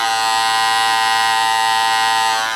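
An Andis Master cordless electric hair clipper runs close and loud, a steady high-pitched motor buzz with a strong, even drone that holds unchanged throughout, with no one talking.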